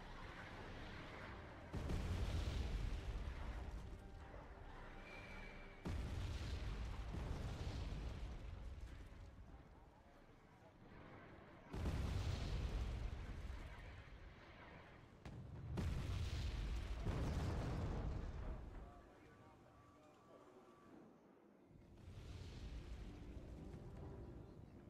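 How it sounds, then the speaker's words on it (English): Artillery shelling in the Wargame: Red Dragon strategy game, five heavy booming impacts at roughly five-second intervals, each a loud rumbling blast that decays slowly, with no voices. "And I've started shelling the enemy position at their main starting sector, trying to snipe the enemy artillery."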